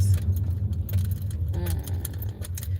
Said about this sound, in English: my car is shaking because I'm going over speed bumps